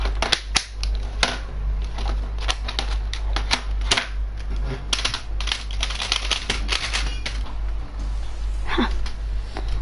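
Fast, irregular clattering of computer keyboard keys during a Fortnite gaming session, steady and close over a constant low hum. A few louder key strikes stand out, and no speech is heard.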